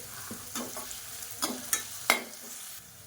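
Sliced onion with salt and curry leaves sautéing in a pan, a low constant sizzle with several quick scraping stirs of a spatula, close and fairly quiet, no voices.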